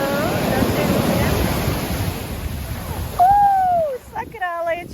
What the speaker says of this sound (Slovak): A Pacifik je teda trošku studenší ako minulý rok, pekná vlna.